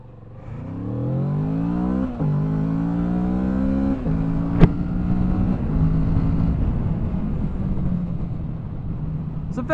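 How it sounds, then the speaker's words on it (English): A Kawasaki Z650 motorcycle's torquey small engine pulls through the gears while riding, rising revs with shift dips near two and four seconds, then a steady drone under wind noise, loud and close. "It's a very torquey little engine. It's got lots of power down low."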